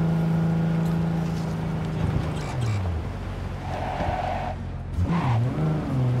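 A car engine revs and shifts pitch in Cyberpunk 2077, then tires screech briefly in a skid, continuous and fairly loud with no talking.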